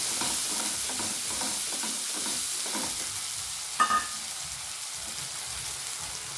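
Ground tomato sizzles in hot oil in a pan while being sautéed for begun bahar, a steady crackling fry with soft stirring scrapes and one sharper clink partway through.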